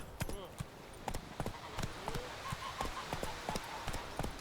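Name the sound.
horse Roach hooves clip-clopping in video game The Witcher 3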